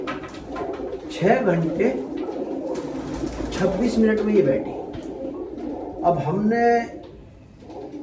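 A racing pigeon coos in soft, repeated rolling calls close by, threaded under and between a man's speech in Hindi.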